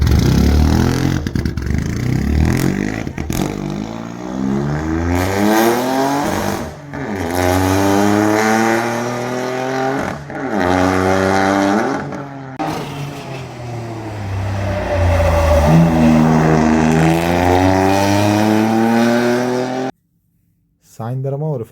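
A rally car engine driving on a track, close and loud, with repeated revving that climbs and falls as the car shifts up through the gears, running almost without a break before a sudden cut near the end.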